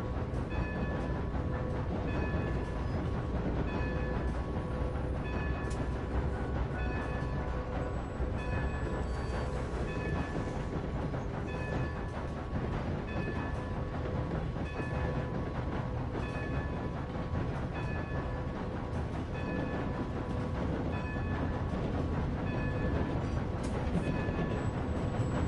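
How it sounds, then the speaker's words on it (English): A steam train driven by the player in Red Dead Redemption 2 rolls along steadily, with continuous rumbling wheels, faint rail clatter and a sustained tonal hum throughout, no talk. "The fact that you could actually drive the fucking train, that's pretty dope."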